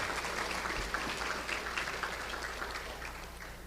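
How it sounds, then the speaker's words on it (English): Banquet audience at a high school athletic hall of fame dinner applauds, a steady, moderately distant wash of many hands clapping that holds evenly throughout. "a great round of applause for Miss Angela Tyree and the Gatesville High School Culinary Arts Department for this wonderful spread tonight"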